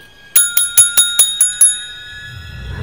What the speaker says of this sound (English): Maybe ringing the bell will make the piranhas think dinner's ready.